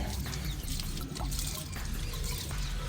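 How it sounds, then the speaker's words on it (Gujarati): Water is drawn out through a pipe in a new setup at home, a steady close trickling and splashing flow that carries on without pause, with no talking. "જુઓ આ ભૂંગળામાંથી પાણી કાઢ્યું"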